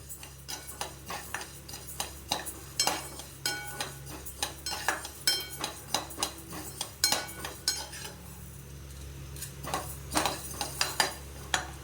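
Ration toor dal roasting dry in a pan, stirred with a metal spoon that gives rapid, repeated clinks and scrapes against the pan, close and fairly quiet, with a faint background hum and no voices.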